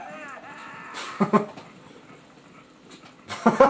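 A wolf in the video game Zelda: Twilight Princess gives short whimpering yips and a couple of sharp bark bursts, close and under a player's voice that also imitates barking.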